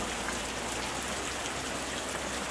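Soft steady rainfall makes an even, unbroken hiss of drops pattering on a surface, moderately quiet and continuous with no voices.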